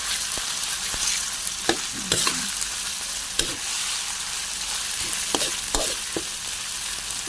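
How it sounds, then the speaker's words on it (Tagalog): Fermented fish buro sautéing with garlic, onion and ginger in a pan, giving a steady bright sizzle broken by sharp scraping stirs and clacks of a spatula. "Ginigisa ko siya guys sa bawang, sibuyas at saka luya."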